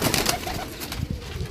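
Domestic pigeons coo continuously at close range: a soft, rolling murmur from several birds overlapping, with no voices.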